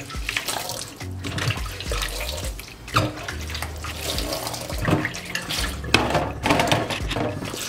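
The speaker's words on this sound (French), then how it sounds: "je vous conseille de bien rincer les blenders" Beauty blender sponges rinsed under a running tap, water splashing and gurgling steadily with squeezes and handling changes, close and fairly loud, no talk.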